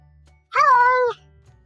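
A single clear, loud meow from a stray cat, about half a second long with a slight rising then falling pitch, close up over quiet low background hum.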